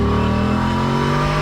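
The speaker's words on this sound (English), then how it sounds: "hear that roar, make it come alive a little bit." A Voge DS900X 900cc adventure motorcycle engine revs loudly and steadily, a close sustained roar with strong low harmonics running the whole time, no talking over it.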